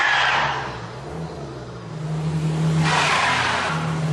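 Car wheels spin on ice with traction control switched off, the engine revving in two surging waves with a broad whooshing hiss of slipping tires, loud and close with no talking.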